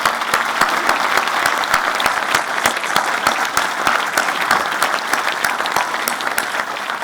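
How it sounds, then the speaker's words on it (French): Audience at a New Year's wishes ceremony in a hall applauding warmly: steady, sustained clapping from many hands, loud and even throughout, with individual sharp claps standing out. "Je vous remercie de bien vouloir les applaudir chaleureusement."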